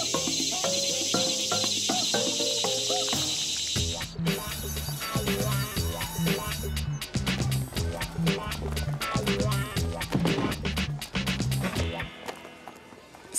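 Crickets chirp in a steady high-pitched trill through the opening seconds of an animated scene, giving way to busy music and scuffling sounds, all at a fairly loud, close level.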